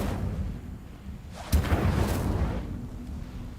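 An Incendio fire spell is cast in Hogwarts Legacy with a sudden close whoosh and fiery burst. The roaring flame crackles for about a second over a low rumble, then fades.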